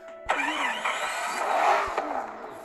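A white car from a Minecraft car mod starts up and drives off, its engine note rising and wavering for a couple of seconds, fairly loud and close with no talk over it.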